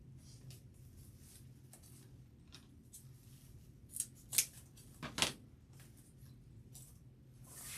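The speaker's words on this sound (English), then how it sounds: "So I will trim the tail. Like this one is too long, so I'll trim this off." Scissors trim the end of a tail, giving a few crisp, close snips in a short burst over a quiet room.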